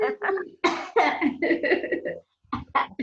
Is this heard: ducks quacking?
no